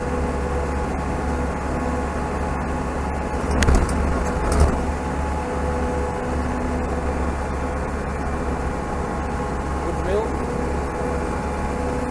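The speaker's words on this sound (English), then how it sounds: "You can hear that hum, constant hum." A constant low road hum on asphalt drones throughout from inside a moving vehicle, with a couple of brief thumps and faint voices in the background.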